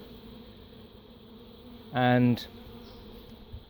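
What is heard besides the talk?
bees buzzing around a hive box being disassembled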